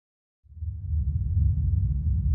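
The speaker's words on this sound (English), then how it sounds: "we should hear the cave ambience play" A dark, low rumbling cave ambience fades in after a brief silence and holds steady, deep and droning with no voices.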